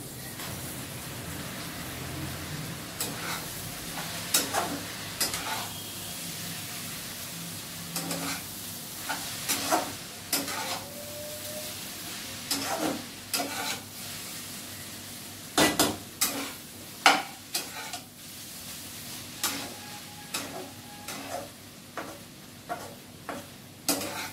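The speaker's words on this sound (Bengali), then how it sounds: "এবার অ্যাড করবো নুডলসটা।" Noodles for chowmein are stir-fried in a pan, with repeated sharp scrapes and clinks of a spatula over a soft background sizzle, irregular strokes close by and fairly loud, no talking.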